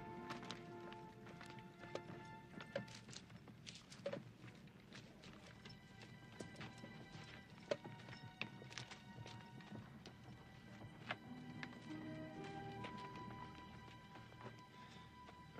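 Steady clip-clop of horse hooves at a moderate pace, with a low rumble of background noise throughout.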